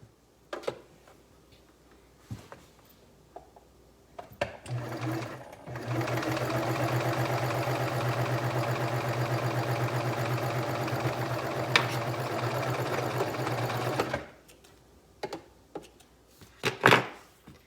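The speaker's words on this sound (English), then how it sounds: "I do want to just do a quick check here to make sure that when I re-threaded this, it's going to sew nicely." A cover stitch sewing machine runs a test seam after rethreading, starting with a few clicks and handling noises, then a steady close mechanical whir for about eight seconds before stopping back into light handling sounds.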